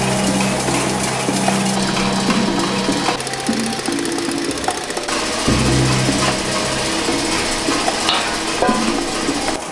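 Egg whites for an airy chocolate mousse are whisked while sugar is gradually added to firm them, producing a loud, continuous mechanical whirring and rattling that runs without a break throughout.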